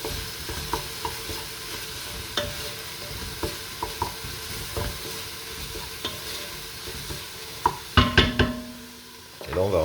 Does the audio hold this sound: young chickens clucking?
no